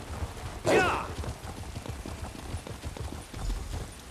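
Horse hooves clip-clopping in the video game Elder Scrolls Online, a steady run of soft, close hoof beats under ambient game sound, with one brief whooshing swell near the start.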